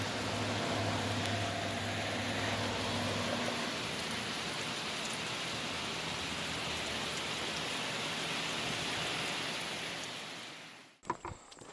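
Steady rain patters onto a flimsy shelter along a hiking trail, a dense continuous hiss with a low drone early on, ending abruptly with a few handling knocks.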